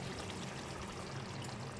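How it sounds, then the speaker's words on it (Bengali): Soaked mustard paste is poured into a simmering egg curry, giving a soft, steady pouring and trickling sound, faint and close, with no talking. "ভেজানো রাখা সর্ষের পেস্টটা দিয়ে দেবো"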